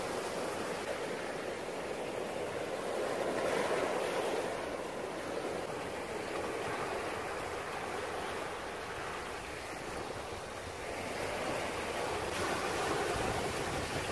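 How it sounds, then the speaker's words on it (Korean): Ocean waves wash and crash against the layered rocks of Chaeseokgang, Gyeokpo, South Korea, in a steady surging roar that swells and ebbs, with no voices. "바위에 부딪히는 파도 소리가 좋습니다."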